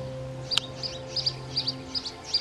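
Birds chirping in the VR game Cyube VR: a string of short, high, bright tweets repeating roughly every third of a second, fairly faint over a low steady electronic hum.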